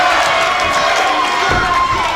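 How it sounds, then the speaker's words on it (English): Crowd at an indie wrestling show cheering loudly and steadily, with shouts and a dull thud partway through, while a commentator's voice runs over the noise. "Crowd's cheered him on."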